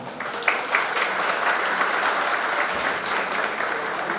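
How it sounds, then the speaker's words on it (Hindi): Sustained audience applause at a Somvanshi Sahastrarjun Kshatriya community annual general meeting, a steady wash of many hands clapping close by for the full length with no voices on top. "जोरदार तालियां"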